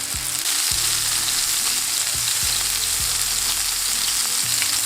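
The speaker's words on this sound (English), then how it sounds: "Now let's start adding in our meatballs. Just cook some at a time." Meatballs fry in a pan with a steady, close sizzle that holds throughout, broken by a few low knocks as they are moved around.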